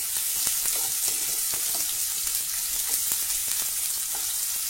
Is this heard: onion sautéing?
yes